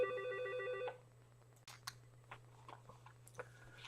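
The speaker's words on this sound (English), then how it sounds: "the phone rang" A telephone rings on a quiet back porch, its electronic trill cutting off after about a second. Faint handling clicks and rustles follow over a low steady hum.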